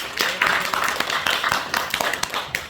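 Audience applause at a church theological workshop honoring a professor, a dense crowd of hands clapping steadily at moderate distance for a few seconds, with no speech over it.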